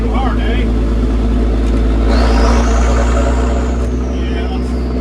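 A Reo vehicle engine droning close by, its pitch rising and falling as it revs hard, with a low heavy rumble underneath and a changed engine note.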